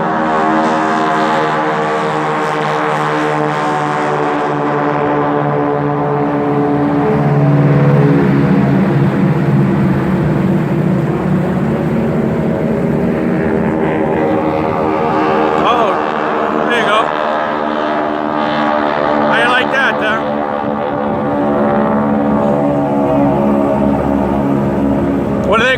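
North American T-6 Texan World War II training planes fly past at a Myrtle Beach, South Carolina air show, a sustained loud droning radial-engine roar that swells and shifts in pitch over about 25 seconds, with people talking underneath.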